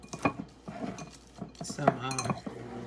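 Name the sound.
mashing deviled egg filling with a fork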